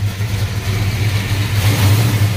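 A 1969 Chevy Chevelle SS 396 big-block V8 revs loudly and pulls away nearby, a throaty continuous engine roar that builds toward the end with no voices.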